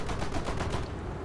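Anti-air guns aboard a Japanese coastal ship in a naval combat game fire a rapid, steady stream of rattling bursts, loud and continuous, with no talk.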